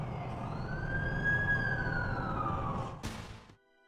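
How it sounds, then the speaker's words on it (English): An ambulance siren wails in The Amazing Spider-Man 2 video game, a rising and falling tone passing nearby over traffic rumble, ending in a sharp burst before quiet. "That's the ambulance I called."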